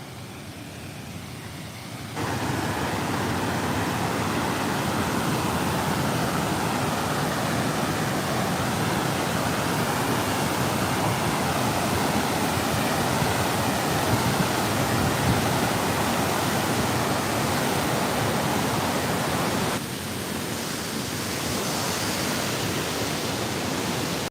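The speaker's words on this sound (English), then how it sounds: "Here's the waterfall again." A steady, broadband roar of falling water fills the whole stretch, loud and constant, dipping slightly at the start and near the end.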